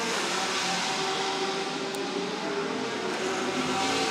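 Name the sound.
GT race cars on qualifying flying lap, Chang International Circuit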